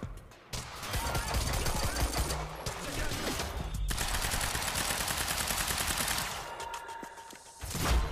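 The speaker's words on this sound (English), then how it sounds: "Hey, stop shooting at me." Rapid automatic gunfire from the video game Quantum Break, a dense sustained burst of shots that drops out briefly and resumes, loud and close, with short gaps between volleys.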